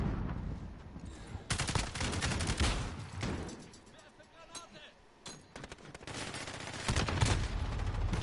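Gunfire in Call of Duty Modern Warfare, with repeated bursts of automatic shots and loud volleys coming in waves, and quieter gaps between them.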